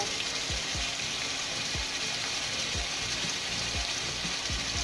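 Onion, garlic and cumin pastes frying in a pan, a steady bright sizzle with soft bubbling pops and a few low thumps scattered throughout, no voices.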